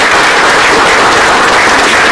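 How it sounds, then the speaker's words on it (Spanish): An audience claps steadily and loudly at a presentation, dense applause filling the whole moment without pause. "Un aplauso, por favor."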